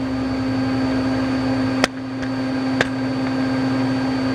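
The spindle of a 1998 Daewoo DMV-400 CNC vertical mill runs at 1000 RPM with a steady, even mechanical hum and tone, broken by two brief clicks.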